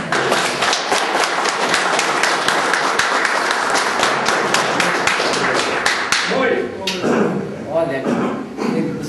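An audience applauds at a Brazilian film club event honoring a filmmaker: dense, steady clapping fills the first six seconds, then fades as a voice begins speaking over the last scattered claps.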